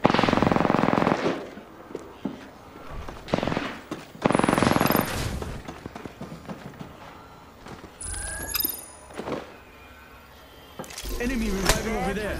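Gunfire in a first-person video game comes in several loud rapid bursts separated by quieter stretches, with a player's voice talking over and between the shots.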